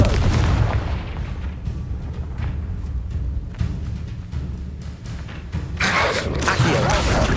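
Fire spell explosions in the video game Hogwarts Legacy, a dense run of booming blasts with crackling bursts layered over continuous rumbling combat noise, loudest near the end.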